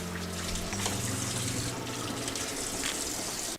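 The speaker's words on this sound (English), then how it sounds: "I'm just giving my wok a quick rinse." Running tap water splashes over a wok being rinsed in a sink, a continuous close spray with shifting tone as the stream hits the metal.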